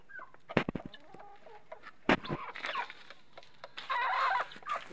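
Chickens in a small rooftop coop with a mesh door, clucking with sharp squawks and a few loud bursts, then a sustained rise of agitated calls near the end, close by.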